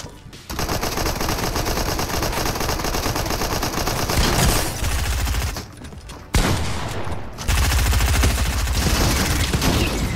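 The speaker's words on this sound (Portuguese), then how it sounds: "olha essa shotgun" Shotgun gunfire in a video game: loud, dense bursts of shooting that run almost continuously, broken by a couple of brief pauses partway through.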